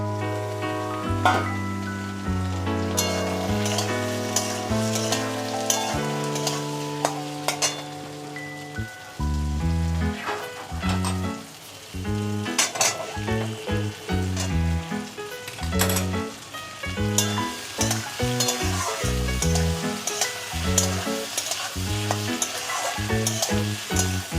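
A steady crackling sizzle of potatoes frying in a pan runs throughout, partly masked by loud background music.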